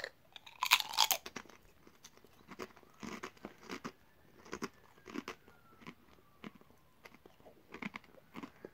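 Tyrrells Raspberry Bellini crisps are crunched and chewed close to the mouth, with a loud burst of bites at the start followed by a steady run of sharp, crackly crunches.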